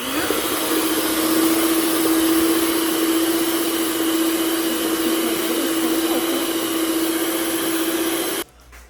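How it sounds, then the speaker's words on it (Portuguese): An electric mixer beats chocolate cake batter with baking powder for a coconut-chocolate cake, giving a steady, loud motor whine that runs unbroken for about eight seconds and then cuts off abruptly. "Vou colocar aqui o fermento em pó e vou bater somente para estar dissolvendo o fermento"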